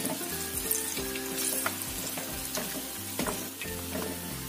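Sweet potato snacks fry in hot oil, giving a steady, close, bubbling sizzle with small pops and occasional stirring scrapes, and no talking.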